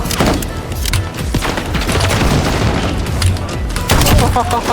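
Dense gunfire and booming explosions from the Call of Duty game, a continuous loud barrage of shots and blasts with a voice talking over the action.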